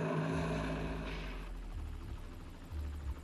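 An armed military helicopter flies toward a target range, its engine and rotors making a steady low drone with a rhythmic throb. The sound is moderately distant and continuous.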